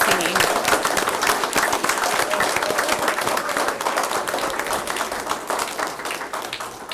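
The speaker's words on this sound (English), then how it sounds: "Can we give them just one more round of applause, y'all?" Audience applause at a city commission meeting, a dense, steady round of clapping from a seated crowd that holds loud throughout and tapers only slightly near the end.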